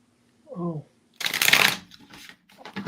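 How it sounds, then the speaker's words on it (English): A deck of tarot cards being shuffled, a brief riffling burst close by, preceded by a short spoken sound and followed by further card handling. "before I started shuffling cards"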